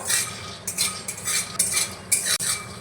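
Raw peanuts dry-roasting in a wok with no oil, stirred so the nuts rattle and scrape against the metal in short, close bursts of clatter with brief pauses between strokes.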